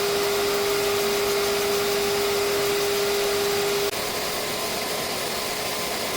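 Car bumper body work: a power sander runs steadily in a constant loud whir with a fixed hum, dipping slightly near the end.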